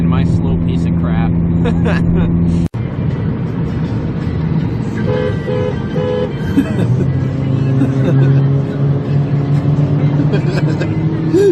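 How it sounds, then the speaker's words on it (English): A steady, droning engine and exhaust hum from a daily-driver car cruising along, continuous and loud throughout, with a brief dropout partway through. "This car, honestly, the exhaust is a little, like a tiny bit drony."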